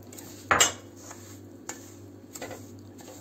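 Spoon clinks against a pot while sugar goes into milky semolina halva, one sharp metallic knock followed by softer scattered taps and clicks over a quiet low hum.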